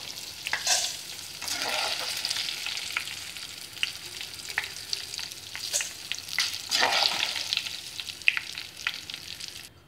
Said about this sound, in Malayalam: ഇതുപോലെ എല്ലാം വറുത്തെടുക്കണം